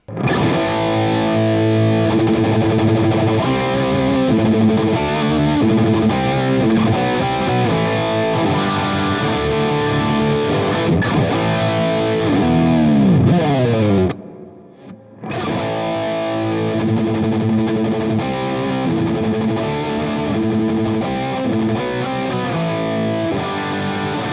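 Distorted electric guitar played through a small overdriven tube lunchbox amp, loud and continuous, with chords and riffs, a brief pause near the middle, then playing resumes.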